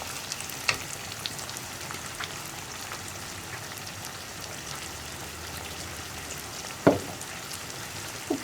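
Salted mixed vegetable pickle being sautéed in oil over a high flame, giving a quiet, even hiss of frying broken by a couple of sharp clicks from the pan, close by.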